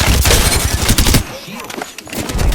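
Rapid bursts of video game gunfire crackle loudly through the first half, then fade into quieter battle noise and game voices before another burst at the end.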